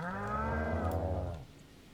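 A single long, loud cow moo from the video game Stardew Valley, with a rich harmonic tone, lasts about a second and a half, then fades into quiet background.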